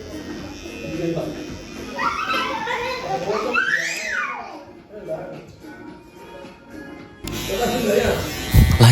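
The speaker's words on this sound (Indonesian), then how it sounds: "kita menggunakan shaver agar lebih halus lagi" A Wimax electric shaver buzzes while smoothing a low burst fade haircut, with a steady motor whine under talking, and children's voices and a barking dog in the background.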